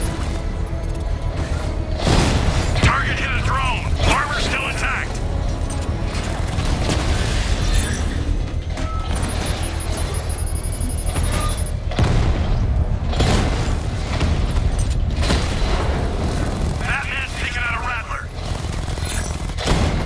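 The Batmobile's cannon fires repeatedly in the Batman: Arkham Knight video game, heavy booming shots and mechanical clatter in bursts over a dense battle soundscape, with someone talking throughout.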